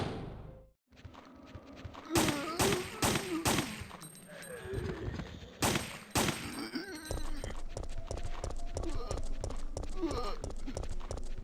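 Bursts of assault rifle fire in the survival horror game Resident Evil 3 (1999), loud sharp cracks in clustered volleys with game noise and overlapping voices throughout.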